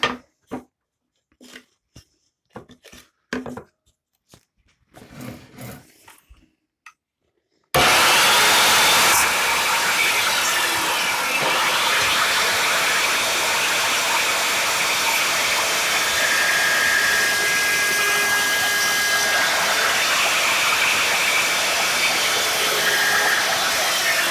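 A saw with a vacuum cleaner attached starts up and runs as a loud, steady whooshing roar, following a few seconds of quiet clicks and handling sounds.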